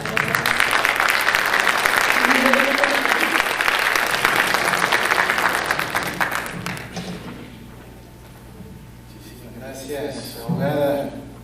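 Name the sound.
audience applause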